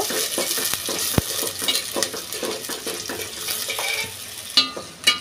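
Dried chepa shutki fish fries with onions in oil in a pan, a constant sizzle broken by rhythmic stirring scrapes and a few utensil clinks, close and without talk.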